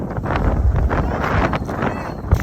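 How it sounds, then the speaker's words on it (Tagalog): Strong typhoon wind in Coron, Philippines buffets the microphone in a steady, loud roar with low rumbling gusts throughout, no voices heard. "Lakas na yung hangin."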